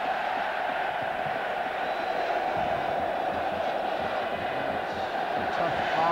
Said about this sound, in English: they're getting a bit of cheer at the moment